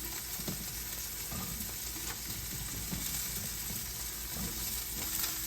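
Zucchini sizzling in olive oil in a pan over medium heat, a steady close, bright frying hiss with small crackles and occasional stirring clinks, no voices.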